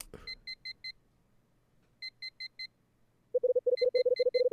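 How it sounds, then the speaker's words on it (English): Alarm clock in a cramped apartment in the video game Last Window, December 1980 scene: three bursts of four high electronic beeps, then a faster, louder, continuous run of lower beeps, with no talking. "The alarm in my cramped apartment starts to beep."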